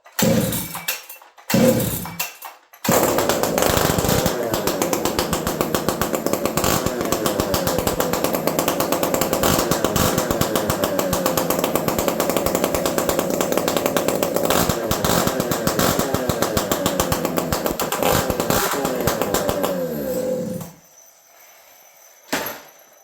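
A chainsaw fitted with a homemade welded exhaust pipe roars loud and close at steady high revs for most of the stretch, after a couple of short bursts at the start, then cuts out near the end.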